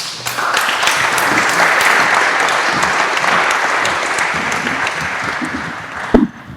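Sustained applause from an audience at a French naval policy general assembly, dense steady clapping for several seconds that tapers slightly, with a brief loud bump near the end.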